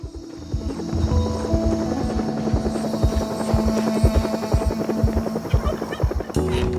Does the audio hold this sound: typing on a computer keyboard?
no